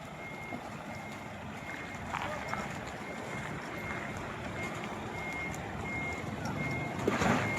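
A vehicle's reversing beeper sounds in a steady repeated tone while it backs into a parking spot, over a rumbling engine and rainy street noise, with voices faintly in the background.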